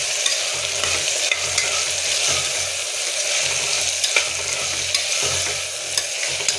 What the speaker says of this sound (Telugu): ఒక చిన్న స్పూన్ అంత పసుపు వేసుకొని బాగా మిక్స్ చేసుకోవాలి